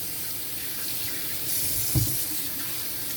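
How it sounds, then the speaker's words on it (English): Tap water runs steadily as fish are rinsed clean for a Good Friday fish fry, a constant hiss of flow with a brief splash midway, fairly quiet and with no voices. "that's how we clean them up, wash them off first and everything."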